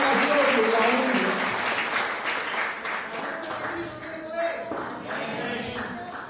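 Applause from a church congregation, loud at first and gradually thinning, with a few separate claps and faint murmuring voices underneath as it fades.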